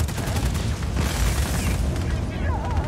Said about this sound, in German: Wird aber auch Zeit, dass das Ding explodiert.